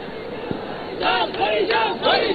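Cricket stadium crowd at a BPL match between Comilla Victorians and Barisal Bulls, a steady roar of spectators swelling into louder bursts of cheering and shouting through the second half, with no commentary audible.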